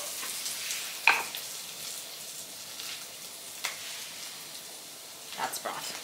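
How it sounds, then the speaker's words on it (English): Shallots sauté in a pan with a faint, even sizzle, broken by a few sharp clicks and scrapes of a utensil. "After about a minute of sautéing the shallots"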